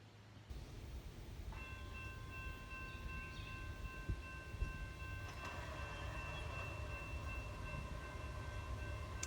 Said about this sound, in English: we'll hang out here at Moody Town Road and catch this loaded coal train.